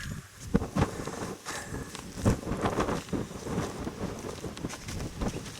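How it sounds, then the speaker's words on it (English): Gusty wind buffeting a tent and microphone at a wet, windy wild camp, a continuous rough rush with stronger surges and occasional footstep-like thumps. "Wind was whipping in under the tent, so I tried to batten it down a bit"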